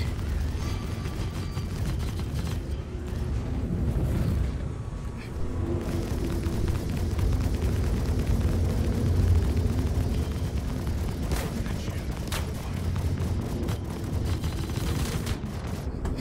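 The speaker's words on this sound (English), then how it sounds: "I'm dodging missiles here. Hey, I got missiles too" Missiles and explosions in a Star Citizen dogfight roar as dense, rumbling bursts and crackling blasts, loud and continuous, with sharp impacts scattered through a sustained low, heavy din.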